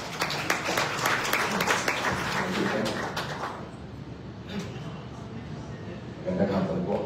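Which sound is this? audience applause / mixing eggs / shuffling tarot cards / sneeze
audience applause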